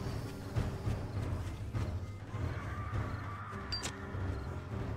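In the zombie survival game 7 Days to Die with a Wild West mod, a horse gives a brief whinny amid uneven hoof clops and thuds, set against a low rumbling game soundscape with a sharp metallic ping near the end.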